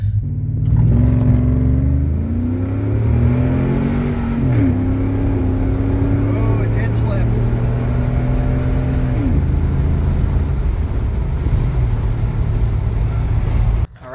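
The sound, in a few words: 2005 Silverado pickup on slicks launching from stop on nitrous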